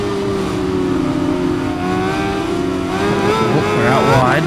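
A BMW S1000RR superbike engine in the racing game Ride 5 holds a steady high-revving whine, climbing and shifting near the end, with faint talk underneath.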